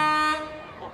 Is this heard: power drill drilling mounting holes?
no